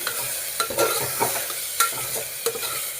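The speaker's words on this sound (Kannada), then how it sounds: "ಇದು ಪನ್ನೀರ್ ಎರಡು ಮಿಕ್ಸ್ ಮಾಡಿಕೊಂಡು" Paneer mixture stirred in a pan, with irregular scraping strokes over a soft, continuous sizzle, close and moderately loud with no talking.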